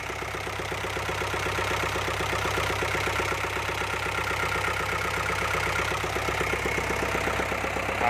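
An Isuzu NPR 120 six-wheel truck's Thai-built diesel engine idles close by with a steady low rumble and rapid even knocking pulses, running alone without talk.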